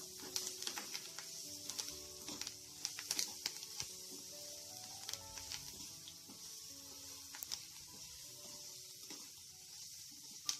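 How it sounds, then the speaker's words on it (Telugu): Curry leaves and a spoon of turmeric fry in hot oil for tamarind pulihora masala, giving a quiet, crackling sizzle dotted with sharp pops and spits throughout. "ఇప్పుడు కొద్దిగా కరివేపాకు వేసి వేయించుకుందాము."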